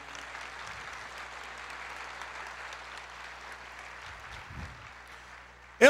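A church congregation claps in a soft, distant, steady patter that fills the space, ending in a sudden close bump.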